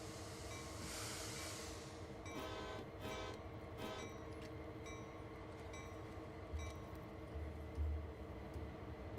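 SD40-2 diesel locomotive idling and running at night around Cane Creek in Train Sim World 2, a low steady engine rumble with faint clanks and a few short tones early on, quiet and even throughout.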